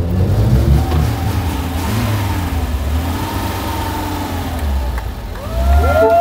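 A modified Zhiguli (Lada) car engine revving up and down in rolling surges over a rough idle, loud and close with no talk.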